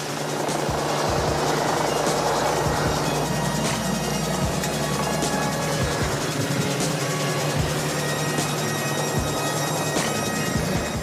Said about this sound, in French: l'hélico pour Olivier, une perche plus un secouriste prêt à partir